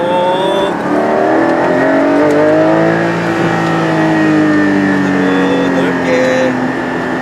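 A Porsche sports car, either a Cayenne Turbo GT or a 718 Cayman GT4, accelerates hard on a race circuit as a loud, sustained engine note rises in pitch from inside the cabin, with a voice speaking over it.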